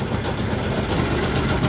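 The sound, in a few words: wooden salt trawler boat engine on river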